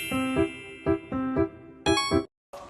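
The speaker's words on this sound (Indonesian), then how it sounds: "menggunakan beberapa gelas yang berisi dengan air dengan volume yang berbeda-beda" Glasses holding different volumes of water are struck one after another, giving bright ringing tones at different pitches with short pauses between strikes.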